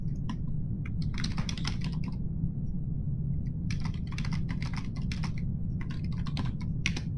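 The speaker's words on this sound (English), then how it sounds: "let me type that out." Steady computer keyboard typing in bursts of rapid key clicks with short pauses between, close and clear over a constant low background hum, with no one talking.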